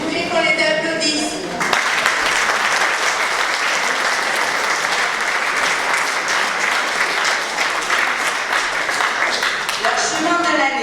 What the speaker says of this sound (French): Et je voulais qu'on les applaudisse.